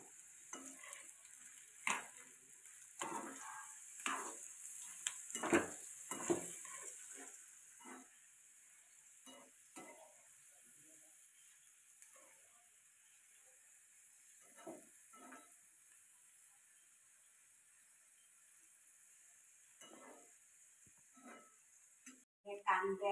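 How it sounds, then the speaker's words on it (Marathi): Finely chopped onion frying in oil in a home kitchen pan while preparing a spicy bamboo shoot dish. There is a steady hiss under repeated scraping stir strokes, busier early on and then quieter, with a voice partly over it. "बारीक चिरलेला कांदा टाकायचा. आणि तो व्यवस्थित परतून घ्यायचा तेलात."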